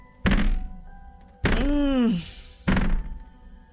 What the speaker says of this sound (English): There's banging on the doors.